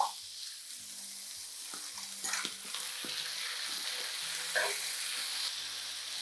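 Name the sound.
nopales and tomato frying in olive oil, being stirred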